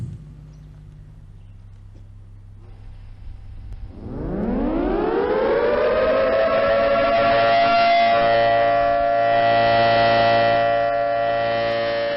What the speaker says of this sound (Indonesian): Penekanan tombol sirine, tanda dimulainya exercise.